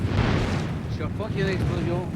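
A deep, loud roaring rumble from an explosion of a volcano in Vanuatu fills the scene, with a voice faintly heard underneath.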